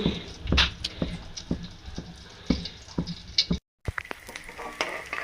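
Ghee heats in a pan for making adadiya, giving a light crackling sizzle with irregular soft pops and clinks, close by and fairly loud, broken by a brief dropout.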